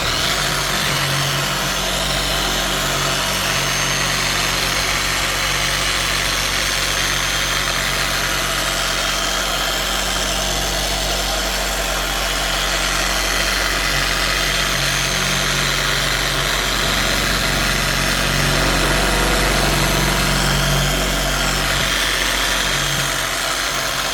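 TORQ 15 DA dual action random orbital polisher running continuously at close range, a loud steady motor drone with a rumbling vibration that barely changes as pressure and angle shift.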